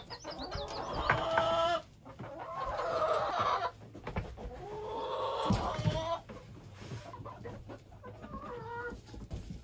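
Chickens cluck and murmur inside a coop on a sunny homestead morning, a steady chorus of close, rising and falling calls in several overlapping bursts.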